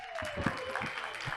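Applause from the audience at a talk on Brazilian civil code reform for condominiums greets a guest being invited up, fairly faint and brief, with a voice running over it.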